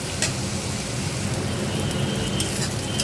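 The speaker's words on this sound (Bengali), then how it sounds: "পেঁয়াজটা বেশ নরম হয়ে গেছে আমি আর একটু লাল করে ভেজে নেব" Onions fry in a pan for a mutton curry, a dense, even close sizzle and crackle that holds steady throughout with no talk.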